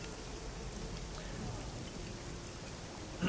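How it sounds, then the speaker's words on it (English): Steady heavy rain falls in the cyberpunk role-playing game Shadowrun Hong Kong, a continuous even wash of droplets at moderate loudness with no clear voices over it. "I love how intense the rain is."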